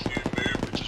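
A .50 caliber machine gun fires in a rapid, steady burst of about a dozen evenly spaced heavy shots during an ARMA 3 military operation, loud and close with no talk.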